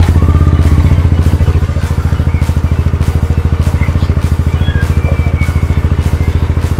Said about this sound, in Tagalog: So check natin kung maandar siya.